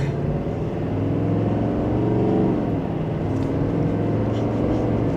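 A 2026 Chevrolet Silverado 2500HD ZR2 pickup accelerates in low range from second gear, its engine a steady, loud drone heard from inside the cab that climbs slightly in pitch.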